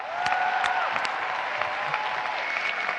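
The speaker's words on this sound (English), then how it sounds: "Yes, please, the final round of applause." An audience at an Erasmus+ gathering applauds an orchestra, a full, steady wash of clapping with a few sharper claps standing out, sustained at an even loudness for the whole stretch.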